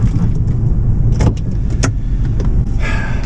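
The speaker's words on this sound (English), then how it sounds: "Getting across this parking lot with all these cars buzzing around." Cars roll and hum continuously close by in a busy grocery store parking lot, with a loud steady road-noise wash and a few brief higher swishes as vehicles move around.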